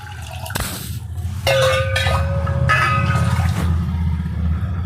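About two and a half glasses of water poured into a cooking pot, a steady splashing fill of a couple of seconds with a rising ringing tone, among light clinks of kitchenware.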